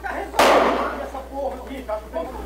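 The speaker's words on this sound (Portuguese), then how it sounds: "Um tiro é disparado." A single gunshot rings out in street footage of military police beating a young man, a sharp loud crack followed by muffled shouts and commotion.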